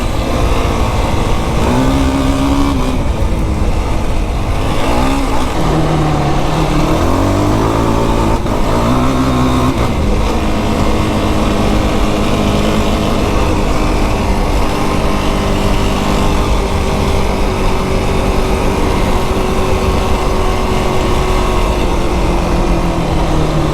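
A 2025 Yamaha YFZ450R quad engine on a desert trail, revving and shifting with rising and falling pitch early on, then holding a steady loud drone up close.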